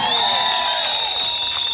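A crowd at a nursing workers' rally claps and cheers in a steady burst of applause, with a thin whistle-like tone running through it and voices faintly mixed in.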